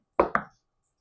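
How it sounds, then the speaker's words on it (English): A knife cuts through a brioche roll on a board, making two quick, close chopping knocks in fast succession, then silence. "I am just going to cut 3 of these in half and toast them in the air fryer"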